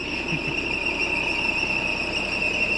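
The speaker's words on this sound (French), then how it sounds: "C'est la courroie d'alternateur qui siffle" A steady, high-pitched squeal from a vintage bus's alternator belt runs continuously over a running engine, loud and unbroken.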